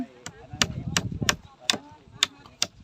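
Repeated hammer blows driving something into place outdoors in strong wind, roughly seven sharp knocks at an irregular, steady pace over gusty rumble, with faint voices in the background.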